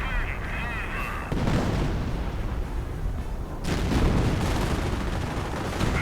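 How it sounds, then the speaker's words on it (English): An artillery barrage lands on a victory point in a World War II strategy video game. Loud, sustained rumbling blasts and crackling explosions roll on without a break, with the intensity surging partway through. "Artillery getting called in right at the victory point."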